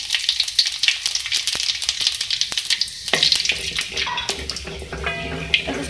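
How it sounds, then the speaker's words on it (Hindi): Whole cumin seeds dropped into hot oil crackle and sizzle loudly, a dense spitting hiss with sharp pops that settles into steady frying, heard up close. "सबसे पहले मैं ऑयल में ऐड करूँगी ज़ीरा"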